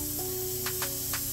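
An LVLP spray gun sprays automotive paint in a steady close hiss with a faint tonal whine, plus a few short bursts of stronger spray near the end.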